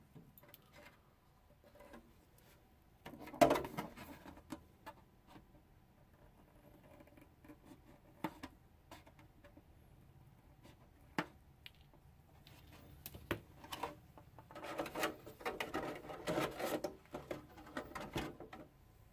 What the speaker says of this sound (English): I am going to take my scissors and round off the sharp corners